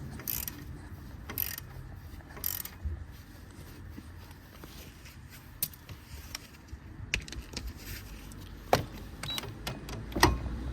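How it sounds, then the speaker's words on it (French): Brake caliper bolts are unscrewed by hand during a front brake disc and pad change, giving scattered ratcheting clicks and metallic taps at an uneven pace, close and fairly quiet. "on dévisse les vis d'étrier. Ça peut prendre un petit peu de temps à la main"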